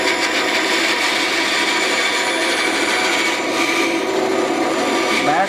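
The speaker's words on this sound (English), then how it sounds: "I take the button, pull the button out to turn it on, and then I can start on my sawing procedure." A band saw runs at a steady, loud whine while the blade cuts through wood, making a continuous rasping hiss with no pauses.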